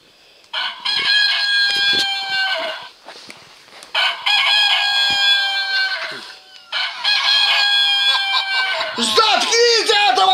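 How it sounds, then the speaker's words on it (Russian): A rooster crows loudly and close by, three long drawn-out crows in a row with short pauses between them. "Ну кто-нибудь заткните петуха!"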